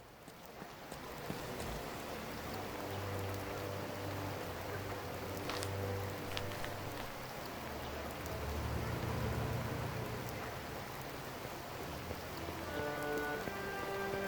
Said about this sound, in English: Several days of rain, getting tired of this lousy weather.